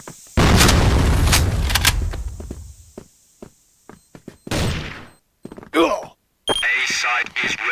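A grenade blast in a first-person shooter game, a loud boom opening with a long rumbling decay, followed by scattered gunshots, game voice callouts and sharp effects.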